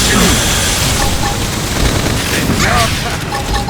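Loud, dense gunfire bursts and booms ring out during a battle in Xenoblade Chronicles X, layered with energetic combat effects and a voice calling out over the din.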